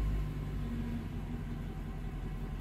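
A Mercedes car engine idles after being started, a low, steady rumble heard close up and fairly quiet with no talking.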